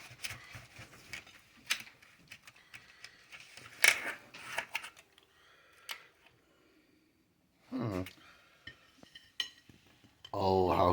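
Knife and utensil cutting into a no-bake mixed fruit pie with jello, scattered close clinks, scrapes and taps against a dish with pauses between, some louder scraping bursts toward the end, alongside intermittent speech.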